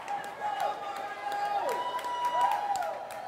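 Crowd at a swimming competition cheering and clapping in a reverberant pool hall, a lively roar with sharp claps, heard under a commentator's talk and whistle-like tones.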